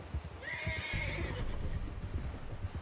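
A horse rears and whinnies in the snowy Red Dead Redemption 2 game world, a loud rising neigh over thudding hooves and clip-clop steps, then continued hoof movement.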